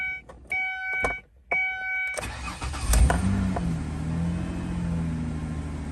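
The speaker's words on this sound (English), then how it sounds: "And it fired right up. It's running nice and smooth." A Ford Escape V6 starting up after an intake manifold reinstall: warning chimes, then the starter cranks and the engine catches with a rev before settling into a steady, smooth idle, heard close and alone.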